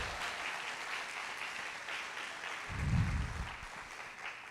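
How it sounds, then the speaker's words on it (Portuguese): A church congregation applauds at a worship service, a soft, steady patter of clapping heard at a distance, with a brief low thump partway through. "Vamos aplaudir Jesus, irmão."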